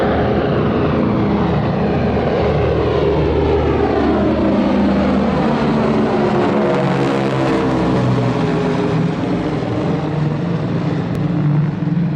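A light airplane drones loudly and steadily near the runway, its propeller engine tone rising and shifting as it touches down briefly and powers away again, with no voices.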